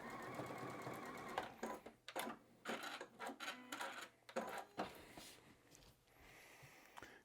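Sewing machine stitching a batik quilt block along a straight edge, a quiet, uneven mechanical whirring that starts and stops in short irregular bursts, with a faint voice in the first second.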